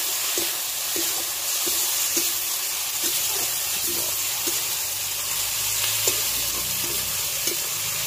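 Ginger garlic paste frying in a pan for a thin bhola fish curry, giving a continuous hiss and sizzle punctuated by light, regular tapping and stirring sounds.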